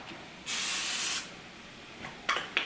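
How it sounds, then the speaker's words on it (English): Cooking spray hisses onto parchment paper in one steady burst of under a second, followed by two shorter spritzes close by. "Now I'm going to spray the parchment."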